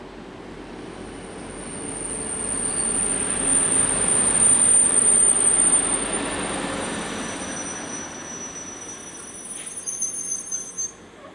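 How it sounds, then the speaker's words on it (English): A rush-hour commuter train bound for Mouscron pulls into a station, its rumble swelling and easing, with a thin, sustained wheel squeal and a few clanks near the end. "2134 arrives with another rush-hour commuter service bound for Mouscron."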